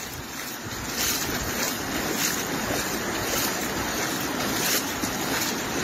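Floodwater from a swollen river in Rio Grande do Norte's backcountry rushes beneath a bridge during heavy rains, a steady, dense roar with gusty wind buffeting throughout and no voices.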